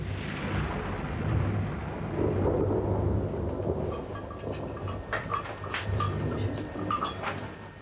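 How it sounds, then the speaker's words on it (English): A tropical thunderstorm at sea, heard from a sailing vessel crossing the Atlantic, brings deep rolling thunder rumbling continuously under a steady wash of rain, with some sharper crackles in the later part. "We have these wonderful tropical storms."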